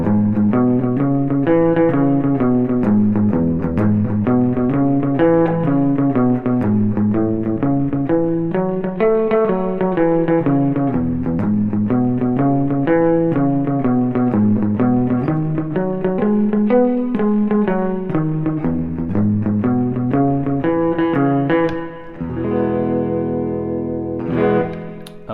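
Country and rockabilly walking bass line picked on guitar, rising and falling through root, third, fifth and sixth to the octave: a steady stream of bright, slightly distorted notes in an even repeating pattern, ending on a ringing chord.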